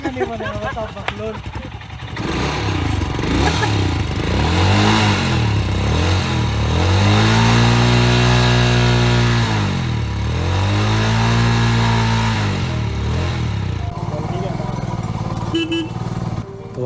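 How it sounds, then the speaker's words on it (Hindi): A motorcycle engine on a trip, started after its air filter and spark plug were cleaned, revs up in rising and falling swells, loud and close, then settles toward a steady idle. "फाइनली अपनी बाइक स्टार्ट हो गई"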